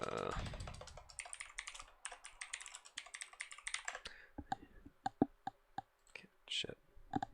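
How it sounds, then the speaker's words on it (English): A computer keyboard clatters in rapid, uneven bursts of typing, then slows to scattered single key clicks, close and quiet, with faint breathy sounds under it. "I did not see what I was typing"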